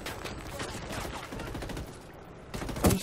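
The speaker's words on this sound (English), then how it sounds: "They are shooting me." Rapid bursts of automatic gunfire and overlapping shots crackle through a Ghost Recon Wildlands firefight, dense and continuous, with a sharper close shot near the end.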